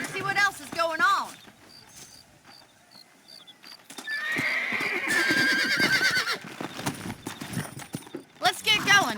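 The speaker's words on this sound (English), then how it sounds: "Let's get back on the horses and see what else is going on." Horses in the Red Dead Redemption video game clip-clop and whinny, with a loud neigh and hooves under intermittent spoken dialogue and game sounds.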